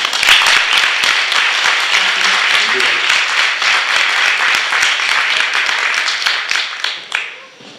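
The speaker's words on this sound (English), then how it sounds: "give them a big round of applause" Steady, full applause from a summit audience thanking panel speakers, holding strong for several seconds before trailing off into scattered claps at the end.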